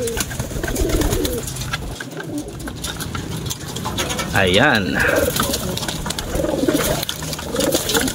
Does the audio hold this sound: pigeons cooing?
yes